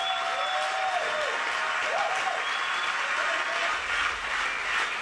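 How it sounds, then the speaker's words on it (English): Guests at a wedding party in a Russian restaurant applauding, a steady continuous patter of many hands, fairly quiet, with faint voices and a tonal sound in the background. "I'd like everybody to clap for Marina's time."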